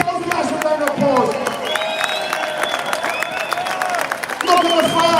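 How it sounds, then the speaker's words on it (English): Large outdoor rally crowd applauding and cheering at a street march, a broad roar of clapping and shouting with whistles and voices mixed in, swelling louder toward the end. "Give yourselves a massive round of applause."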